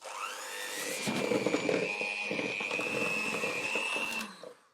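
An electric mixer beats butter and powdered sugar in a bowl, a steady whirring motor hum with rattling clatter that runs for about four seconds before cutting off.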